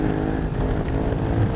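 A 1995 Ducati 916 racing motorcycle, heard on-board at the Isle of Man TT, holds a loud, steady low engine drone at modest revs, close and continuous with no pauses.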